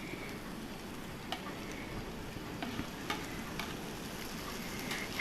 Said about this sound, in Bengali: সমস্ত সবজিগুলো ভালো করে মিশিয়ে নিচ্ছি